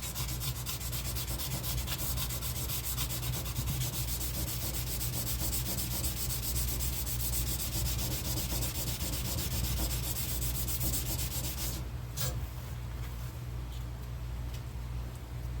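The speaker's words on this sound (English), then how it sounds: "Turning the sandpaper over to the new side, repositioning it on my block sander." Sandpaper on a block sander is worked over a firearm's surface in a continuous, close, loud rasping rub that scarcely varies, with a brief dip near the end and no voices.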